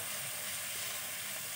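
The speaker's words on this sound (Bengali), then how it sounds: "এতিয়া মই এচামুচ নহৰু দি দিছোঁ। নহৰুখিনিও মই এনেকৈ ভাজি ল'ম" Garlic frying in a pan with reddened onions gives a soft, continuous sizzle and faint hiss, close but low in level, with no voices over it.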